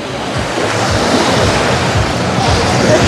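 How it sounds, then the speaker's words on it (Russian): Sea surf rolls onto the central beach at the Anapa resort, where the water is thick with green seaweed. The roar is loud and continuous, broken by wave wash and gusts of wind noise across the microphone. "Прямо вместе со звуком прибоя можно слышать, как вот эта зеленая жижа хлюпает"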